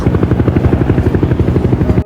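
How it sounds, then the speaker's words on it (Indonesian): A police helicopter's rotor thumps in a steady, rapid rhythm, loud and close, with a continuous engine drone underneath. "polisi yang mulai mengejar menggunakan helikopter"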